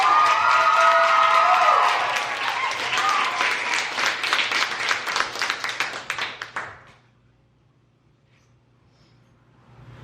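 An audience at an annual grand slam poetry event claps and cheers loudly, with whoops over dense applause that thins into scattered claps and fades to near silence after about seven seconds.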